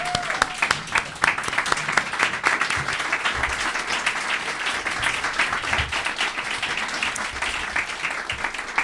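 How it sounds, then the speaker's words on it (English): A standing audience at a mayor's State of the City address gives a sustained round of applause, dense steady clapping with a few sharper claps standing out, fairly distant in a large hall. "Let's stand up and give these women a round of applause."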